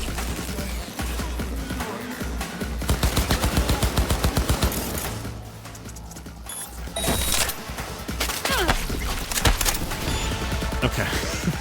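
Rapid automatic gunfire in a Cyberpunk 2077 firefight comes as dense bursts of sharp cracks, loud and close, broken by brief pauses and other impacts over about eleven seconds.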